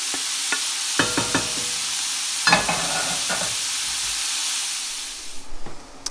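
Wine is poured into a hot pot of Bolognese sauce, giving a loud, steady sizzle and hiss with a few sharp clatters of a spoon or pan as it is stirred. The sizzle eases off near the end.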